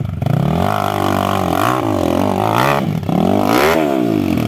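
A motorcycle engine revving hard and holding high, its pitch rising and falling in surges, loud and close.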